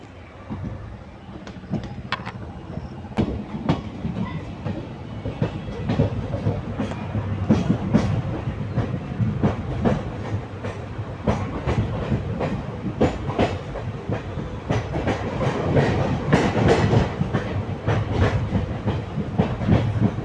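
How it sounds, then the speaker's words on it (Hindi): A passenger train on the Kalka–Ambala line, pulled by a WAP-4 electric locomotive, picks up speed: a steady rumble and rising clickety-clack of wheels over rail joints, heard close from inside a carriage, growing louder toward the end. "ट्रेन एक्सेलरेट करते हुए अपने नेक्स्ट स्टेशन चंडीगढ़ की तरफ। इस ट्रेन को लीड कर रहा है वैब 4।"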